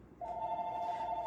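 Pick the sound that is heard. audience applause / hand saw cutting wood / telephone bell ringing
telephone bell ringing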